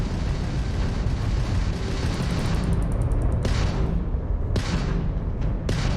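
Crimson Fleet ship weapons fire during a space combat in the game Starfield, heavy rumbling blasts under a dense roar, with several sharp distinct shots cracking out in the latter half, loud and close.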